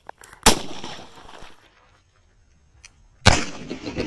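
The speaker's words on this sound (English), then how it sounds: "I also tried hitting the lens with a high-powered muzzle blast of a rifle to see if the heat and pressure would crack the" Two sharp, loud rifle muzzle blasts fired point-blank at a GoPro lens, each a sudden crack trailing into a brief echo, the second about three seconds after the first, with no one talking.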